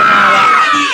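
Children at a seventh birthday and christening party shout together loudly, a dense excited crowd yell sustained for under a second, close and intense.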